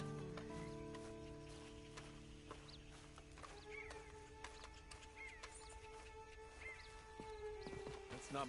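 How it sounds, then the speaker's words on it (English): A horse in a PS4 video game snorts and whinnies with hoof clip-clops, set against a steady hum of game tones and faint background sounds, fairly quiet overall. "And you better get on this horse."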